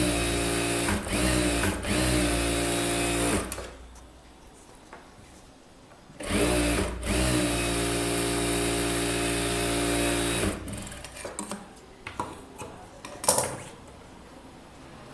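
Sewing machine stitching the edge seam of a blouse with the lining pulled aside, loud steady motor whir in two long bursts with a quiet gap between, then short stop-start runs.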